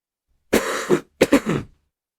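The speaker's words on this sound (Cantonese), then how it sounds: "有冇人同我一樣，天氣一轉就成日咳咳咳？" Two short bursts of coughing or throat clearing, close and distinct, separated by a brief silence.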